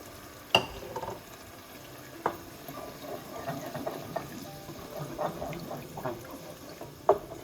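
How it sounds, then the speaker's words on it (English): Coconut milk pours into a simmering coconut curry and is stirred, giving soft liquid bubbling and scraping with a few sharp utensil knocks against the pot, fairly quiet and close. "And I'll put in the milk I poured off."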